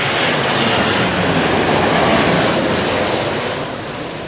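Airliner engines roar loudly at London Heathrow Airport, a close, sustained jet rush with a faint high whine, swelling slightly before easing off.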